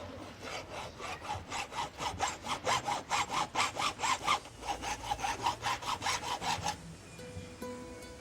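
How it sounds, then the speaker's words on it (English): A file cuts a small mitre edge into a piece of sterling silver, producing a close, steady run of rhythmic rasping strokes, about three per second, before stopping near the end with faint background tones. "I'm going to take a piece of sterling silver and I'm going to start by filing into it a"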